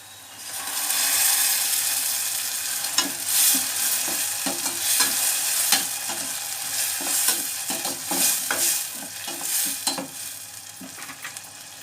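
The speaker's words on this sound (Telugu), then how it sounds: "ఉల్లిపాయ ముక్కలు బాగా కుక్ అవునాయండి ఇందులో ముందు మనం ఆడి రెడీ చేసుకుని టమాటా పేస్ట్ వేసేసుకుందాం" Tomato paste sizzles with cooked onion slices in a pan for an egg masala curry, with steady frying hiss and a rapid run of rhythmic spoon scrapes and stirs, close and fairly loud, no voices.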